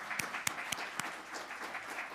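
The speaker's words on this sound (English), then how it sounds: "both the rabbi and Terry deserve a round of applause" Short round of audience applause at a talk on traditional Jewish folk medicine, with scattered individual claps over a soft, fairly distant patter.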